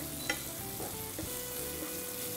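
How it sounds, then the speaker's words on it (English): Chopped onions sauté in a pan over low to medium heat for a potato curry, giving a steady, close sizzle broken by a few soft stirring scrapes, with no voices. "We'll saute the onions on low to medium heat until it becomes lightly softened"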